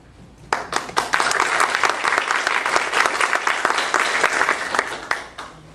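An audience at a community association mayoral forum breaks into applause, a burst of sharp individual claps swelling into sustained, fairly loud clapping before tapering off.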